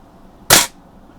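A Daisy 120 pellet rifle fires once at a Halloween witch target outdoors, giving a single sharp, close, loud crack that cuts off almost at once against near silence.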